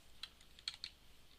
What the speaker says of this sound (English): you can use your down arrow on the keyboard